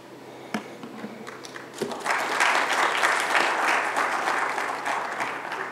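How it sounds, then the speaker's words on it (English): A conference audience breaks into polite applause after a sales talk, a few scattered claps first, then steady clapping that builds and slowly fades. "thanks for the polite applause"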